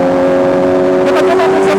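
An MV Agusta Brutale 1000 Nürburgring four-cylinder motorcycle idles with a loud, steady, humming drone, and a voice briefly cuts in toward the end.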